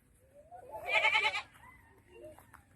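A goat bleats once on a farm, a wavering, nasal cry close by over faint background rumble, followed by quieter scattered sounds.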